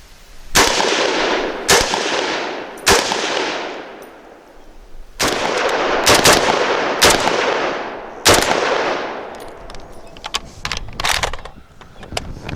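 A PTR G3 clone semi-automatic .308 rifle fires a string of loud, sharp shots with uneven spacing, each blast ringing out with a long echoing tail, several coming in quick pairs.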